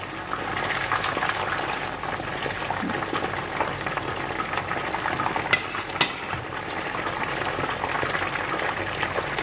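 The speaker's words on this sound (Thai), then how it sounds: "นี่ มันกำลังทอดอยู่จ้ะ น่ากินบ้าสันข้อหมูจ้ะ" Pork neck sprinkled with sesame fries in hot oil, a steady close sizzle and bubbling that runs throughout, with a few sharp pops and no talking.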